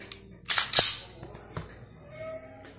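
An HK VP9 pistol dry-fires, giving a few sharp, close mechanical clicks and snaps of the trigger and slide, separated by short quiet gaps, with no talking.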